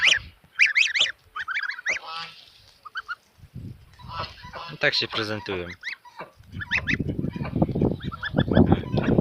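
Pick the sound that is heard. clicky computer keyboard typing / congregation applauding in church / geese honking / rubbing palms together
geese honking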